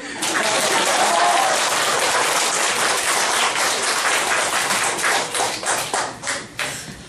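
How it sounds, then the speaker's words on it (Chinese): A church congregation of around a hundred people applauding during a Sunday sermon, a loud, dense burst of clapping that holds steady, then thins into scattered separate claps toward the end. "鼓掌啊。"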